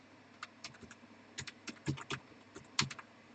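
Code is typed on a computer keyboard in quick, irregular bursts of soft, close key clicks with short pauses between them, over a quiet background.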